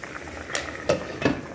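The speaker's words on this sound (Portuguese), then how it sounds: "E aqui o meu feijãozinho, que eu coloquei também. Tá fervendo também." Beans simmering in a pot on a home stove, giving a low bubbling hiss with a few soft pops and blips breaking through, close and fairly quiet.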